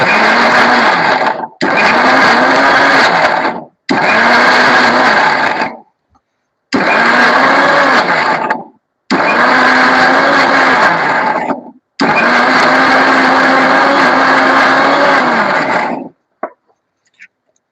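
A blender grinds masala paste for Kashmiri dum aloo in a home kitchen, running in six loud whirring bursts of one to four seconds, separated by short silences, with a few faint clicks at the end.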